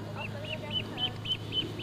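Ducks and chickens in a farmyard, a quick regular run of about seven short, faint calls under low background noise.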